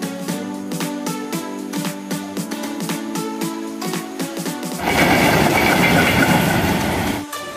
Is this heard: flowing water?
no